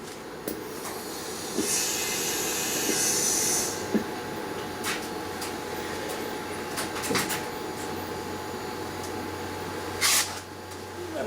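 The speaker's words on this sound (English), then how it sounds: "we're starting to hear boiling in the evaporator" A steady low hiss with faint gurgling and bubbling of R152a refrigerant boiling in a car fridge evaporator, broken by a few sharp clicks and a brief louder burst of hiss near the end, with no voices.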